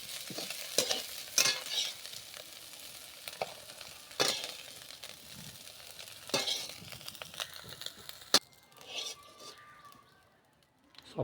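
Fish fries in oil in a wok, a steady close sizzle broken by sharp spatula scrapes and clinks from stirring, with a brief thin tone near the end.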